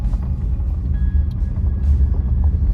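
A vehicle engine rumbles low and steady while tyres crunch faintly over gravel, heard from inside a car with windows open in Scotland, loud and continuous with no talking.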